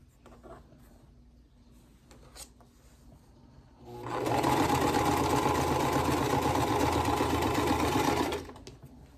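A sewing machine joins quilt blocks in a single steady four-second run that starts abruptly after a quiet stretch of faint handling noises. The whirring is loud and close, with no talking.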